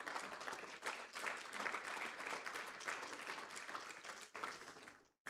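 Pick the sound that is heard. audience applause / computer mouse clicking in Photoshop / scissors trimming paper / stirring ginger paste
audience applause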